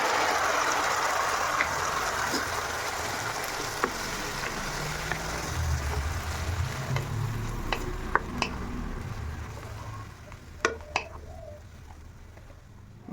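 Fish curry with ground manimuni paste sizzles in a pan after the fish is fried, a hiss that starts loud and fades, with scattered utensil clicks and faint birdsong.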